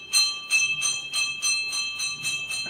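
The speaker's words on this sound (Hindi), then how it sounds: "घंटी बजाया।" A metal temple bell at Trinetra Ganesh temple in Ranthambore Fort rings in a steady series of about eight bright, resonant strikes, each roughly a third of a second apart, with a sustained metallic hum between them.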